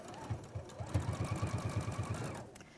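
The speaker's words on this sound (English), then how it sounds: "So I'm just going to sew on that curve." A sewing machine stitches along a curve in fabric, its needle tapping in a fast, even rhythm for about two seconds close up before stopping.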